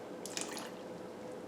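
Water poured into a bowl sitting on a kitchen scale for sourdough dough, a soft, quiet trickle with a few brief splashy drips near the start, heard alone.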